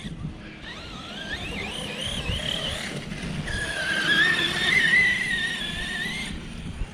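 An Arrma Kraton RC car drives up and jumps a ramp, its electric motor whining and rising in pitch, loudest mid-clip as it races past and launches, then trailing off.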